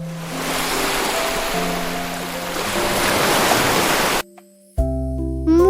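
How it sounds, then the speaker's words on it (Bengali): Water waves wash steadily around a floating boat, a broad, loud rush of surf lasting about four seconds before it cuts to bright musical tones. "ঢেউয়ের সাথে নৌকা ভাসে"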